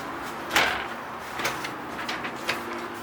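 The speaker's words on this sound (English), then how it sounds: "You've got a pantry with slide-out drawers in it beside the fridge" Slide-out pantry drawers beside the fridge in a 2015 Forest River Georgetown 270SSF RV roll and bump shut several times, with a sharp knock at the start and softer sliding thuds following, close and without talk.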